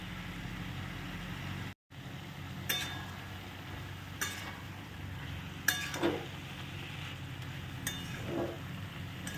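Banana flower curry (mochar ghonto) with raisins being stir-fried in a pan, heard as sparse, soft spatula scrapes and taps every second or two over a quiet, low background hum, with no talking.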